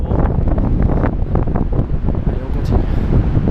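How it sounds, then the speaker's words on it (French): Strong wind on the Everest base camp trek roars and buffets the microphone in continuous gusts where a Nepalese flag is flying, with no clear voices. "Drapeau népalais flotte au vent."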